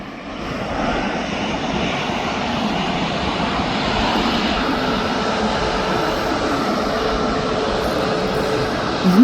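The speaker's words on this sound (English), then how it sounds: "We have got an arrival of Ryanair. Just coming in now." A Ryanair airliner arriving and landing at Birmingham airport gives a loud, steady engine roar and rushing noise that holds throughout, heard from fairly near with no talk over it.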